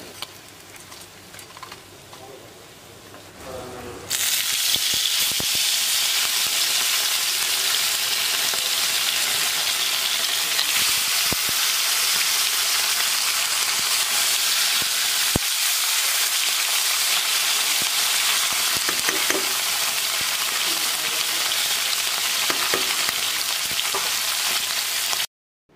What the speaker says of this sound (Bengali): মাছ ভাজা হয়ে গেছে